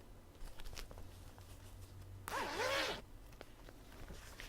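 Metal zipper pull on a handmade bag sliding in one quick, close zip lasting under a second, rising and falling in a brief rasping sweep amid quiet handling noise.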